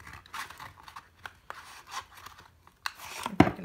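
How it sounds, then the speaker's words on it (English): Scissors snip across paper planner boxes in a quiet room, giving a series of short, crisp cuts with brief pauses between them and one louder closing snip at the end. "I'm just gonna take my scissors and cut right across on all 5 of my boxes."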